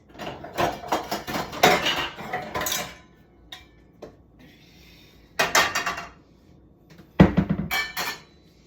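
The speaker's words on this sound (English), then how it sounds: "gonna get out my trusty skillet and my pot" A skillet and a pot are pulled out in a home kitchen, with bursts of metallic clanking and rattling near and loud, separated by quiet gaps, a sharp knock opening the last burst.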